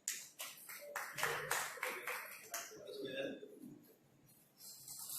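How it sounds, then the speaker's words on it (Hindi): Brief clapping greets a poet at a nashist poetry gathering, a few uneven bursts of hand claps that trail off, mixed with a voice speaking over and after them in a small room. "मौलाना नईम साहब तालियों से इस्तकबाल।"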